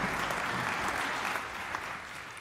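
Steady, dense audience applause at an engineering symposium after the executive mayor is acknowledged, continuous clapping that eases slightly toward the end.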